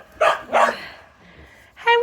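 Puppies bark in short, sharp yips, two quick barks close together and then a third after a brief pause, loud and near.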